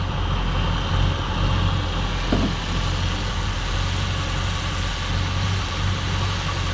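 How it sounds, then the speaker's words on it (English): Freshly rebuilt Ford 289 V8 in a 1967 Galaxie 500 idling during first start and break-in, a steady, loud low rumble with a slightly uneven idle, close and without pause. "Seems like maybe the adjustment on the carburetor idle screws or something needs to be made for it to idle a little bit smoother."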